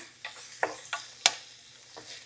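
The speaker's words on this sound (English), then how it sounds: "we're just going to saute this until it is wilted" Vegetables sauté and wilt in a pan over medium-high heat, giving a soft sizzle with a few quiet clicks and scrapes from stirring, faint and close.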